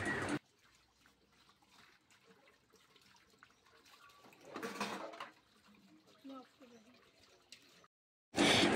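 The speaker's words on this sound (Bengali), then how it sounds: "বাসন টাসনগুলোকে মেজে নিই" Dishes are washed under running water at home. Loud gushes of tap water come at the start, in the middle and at the end, with faint clinks and handling noises in the quiet stretches between them.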